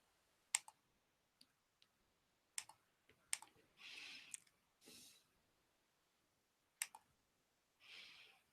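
A computer mouse clicks in a quiet room, about seven or eight faint sharp clicks at irregular intervals, with a few soft brushing rustles between them.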